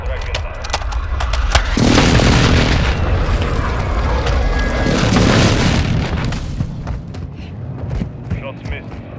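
A close air support airstrike in Warzone 2.0 sets off a heavy rumbling boom that swells and holds for several seconds before slowly fading, with radio voices talking over and after the blasts.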